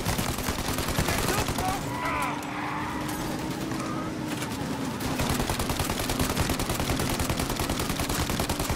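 Gunfire in the video game Mafia Definitive Edition aimed at pursuing police during a car chase: rapid bursts of automatic shots hammer almost nonstop over a running engine, pausing briefly near the middle.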